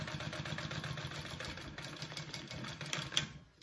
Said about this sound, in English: I'm gonna sew my pocket closed down here